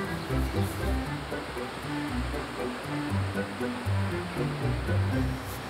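Baltic Sea surf breaking on a beach, a continuous wash of wave noise with wind rumble, heard close and fairly loud, with voices faintly present in places.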